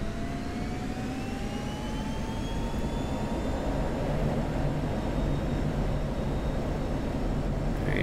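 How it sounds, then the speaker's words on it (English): Loud, continuous roar of an F-16C jet engine at full afterburner during takeoff in the DCS flight simulator, a steady dense rumble with rising whine tones that builds slightly and holds throughout with no talking. "So we'll go ahead and take off full afterburner."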